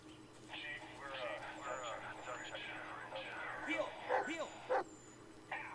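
A dog in the Blair Witch video game whimpers and yips in short, uneven bursts, moderately close, while a person talks softly over it.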